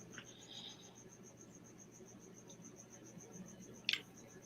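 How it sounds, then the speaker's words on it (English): Crickets chirp steadily at night in a quiet room, a continuous high pulsing trill running throughout, with a brief sharper click near the end. "Boy, them crickets are alive. They don't sleep either."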